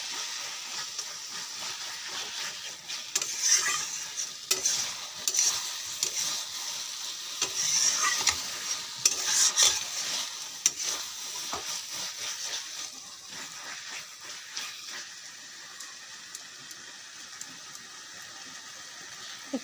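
Taro leaves (kochu shaak) stir-frying in a pan, a steady sizzle and hiss broken by repeated scraping and clinking stirs, close and moderately loud, with no talking.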